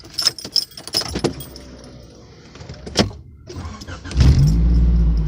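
Keys jangle and clink in bursts inside a Honda Accord CB7, followed by a quiet pause, then the engine cranks and catches into a loud, steady idle.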